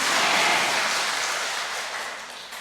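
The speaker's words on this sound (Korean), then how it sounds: "졸지 마시고 박수 치세요" Church congregation applauding together at a Catholic parish lecture, a dense, steady wash of clapping that starts loud and slowly tapers off, with no talking over it.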